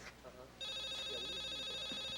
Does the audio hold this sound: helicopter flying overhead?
no